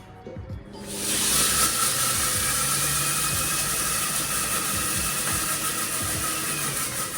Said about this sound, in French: je vais les mixer pendant 6 secondes, vitesse 6